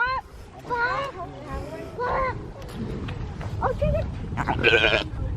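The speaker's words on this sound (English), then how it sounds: "Look, baby sheep." Baby sheep bleat at a farm in several wavering, high cries, close and fairly clear, with people talking nearby.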